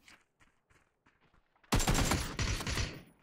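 A submachine gun fires in a video game, opening with a few soft taps and footsteps before a loud, sustained burst of rapid automatic fire in the second half, trailing off at the end.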